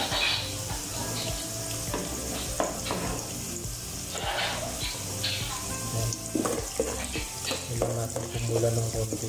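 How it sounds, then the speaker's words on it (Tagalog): Garlic hitting a hot pan sizzles loudly and densely alongside stirring scrapes, with running water and kitchen clatter mixed in throughout. "Lagay natin yung bawang."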